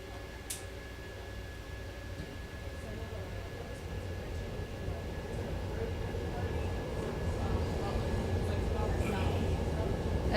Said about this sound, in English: As the L train rumbles on by, you've heard it a bunch today.